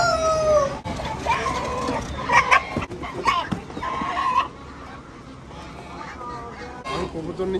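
Chickens cluck and a rooster crows amid a busy village auction market, loud fowl calls overlapping with people talking nearby and occasional barking.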